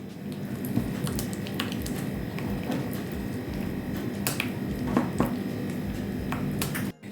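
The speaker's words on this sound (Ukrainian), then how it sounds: "І тепер це все гарненько ось нам ось так потрібно перемішати" A spoon stirs a thick ketchup and garlic sauce in a bowl, making continuous wet squelching with quick sticky clicks. The stirring is close and steady throughout, with no talking.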